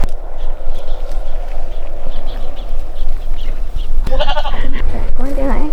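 Free-roaming sheep on Icelandic mountainsides give a couple of short bleats near the end, over steady wind and someone talking throughout.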